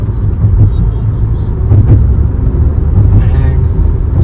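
A Kia Seltos GTX+ with a 1.5 turbo petrol engine and 7DCT gearbox accelerates, giving a steady, loud low rumble of engine and road noise heard from inside the car.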